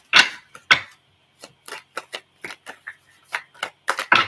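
Tarot cards being shuffled by hand in quick, irregular bursts of crisp flicks and riffles, close and clear, with short silent gaps and no speech.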